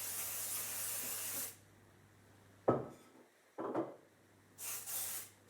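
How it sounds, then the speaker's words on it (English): Cooking spray bursts with a hiss into a baking pan, then short quieter sprays follow, close up with no talking. "Then I'm going to spray it."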